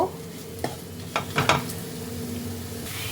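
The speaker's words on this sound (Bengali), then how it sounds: "তাকে ভালো করে আলুর সাথে মিক্সড করে নিচ্ছি যতক্ষণ না নারকেলের কাঁচা গন্ধটা চলে যায় ততক্ষণ একটু সাঁতলে নেব" Grated coconut and potatoes being sautéed together in a pan, a soft continuous sizzle with a few sharp spoon scrapes and stirs midway.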